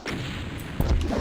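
A rocket launcher fires in The Ultimate Doom, a sharp boom landing after a stretch of busy game noise, with a heavy low rumble that carries on briefly afterward; no talking.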